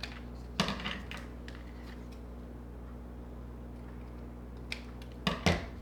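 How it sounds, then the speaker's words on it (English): Paper is cut by hand for a Christmas card in a quiet room, a few sharp close snips and crisp rustles separated by a long pause over a low background hum. "Let's see if I can cut straight today."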